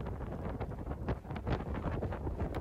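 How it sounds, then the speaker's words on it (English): Strong wind sweeping across an open golf course buffets the microphone in a steady, loud rumbling roar with gusty surges and no talking. "This wind was unrelenting."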